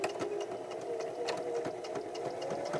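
Sewing machine backstitching the start of a 1/4 inch seam with seam tape on a composition notebook pen pouch, a steady close motor whir with rapid rhythmic needle ticks throughout.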